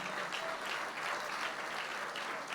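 A church congregation gives a brief, full burst of applause in praise, a dense, continuous clatter of many hands with no talking.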